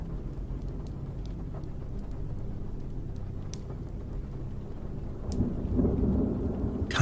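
A thunderstorm with steady rain, distant thunder rumbling throughout and building into a louder roll near the end.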